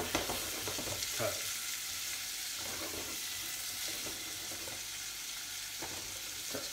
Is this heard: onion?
yes